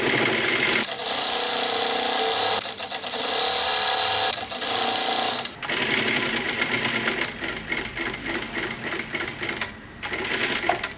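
A sewing machine stitches blouse fabric along the reverse side, a close, steady rapid whir in several runs broken by brief stops.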